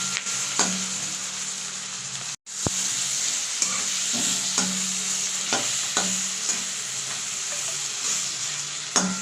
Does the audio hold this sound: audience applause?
no